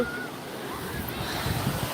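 Sea waves washing ashore at Lido beach in Italy, a steady broadband surf roar with wind noise on the microphone, moderately loud and continuous for a couple of seconds.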